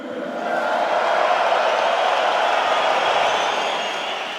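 A large arena crowd roars in support of kickboxer Rico Verhoeven at a kickboxing event, a sustained, swelling wash of cheering that rises and slightly fades over a few seconds.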